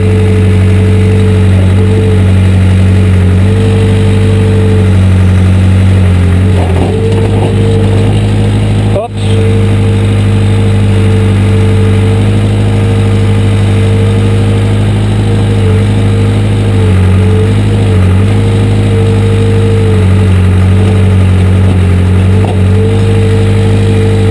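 Excavator engine running steadily while its bucket saws and digs into rock, a loud, constant low drone with shifting load and a sharp clank midway, up close.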